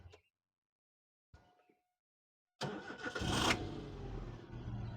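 A Maruti A-Star petrol car at a Sunday used-car fair starts on a single crank after a couple of seconds of quiet, then settles into a steady, fairly loud idle close by.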